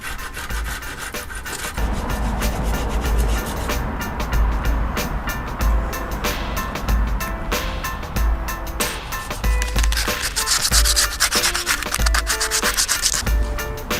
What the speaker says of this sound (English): Keep sanding.